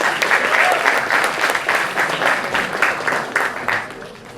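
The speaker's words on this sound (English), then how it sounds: "Please welcome Mr. Rohini Ramanathan to the stage with another round of applause" A festival audience at a film-industry conversation session applauds a guest taking the stage, steady crowd clapping that holds at full level and then begins to fade toward the end.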